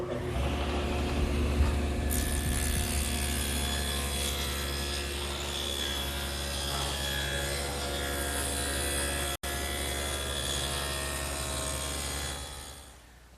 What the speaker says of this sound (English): I've set up the table saw with a dado blade, which can be adjusted for varying widths.